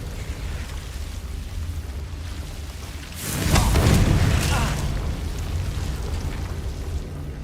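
A Confringo fire spell detonates in Hogwarts Legacy, a loud burst with a low rumbling tail that swells at about three seconds over steady game ambience.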